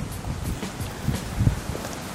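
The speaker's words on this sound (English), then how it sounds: "And I apologize about the wind, but we have thunderstorms coming" Gusty wind buffets an outdoor microphone ahead of approaching thunderstorms in the Victorian goldfields of Australia, a steady low rumble with soft rustling swells and a brief stronger gust midway, with no voices.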